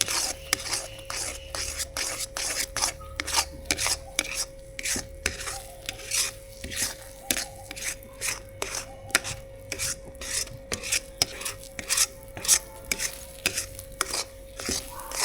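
A milk powder peda mixture with sugar syrup is stirred in a pan, giving rhythmic scraping strokes of the spoon against the pan bottom, close and regular, with a faint steady hum underneath and no talk.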